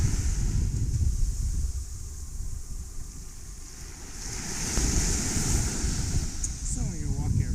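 Surf rolling onto Grand Anse Beach in Grenada, a steady broadband wash of waves with wind buffeting the microphone, swelling louder in the second half, with faint voices in the background.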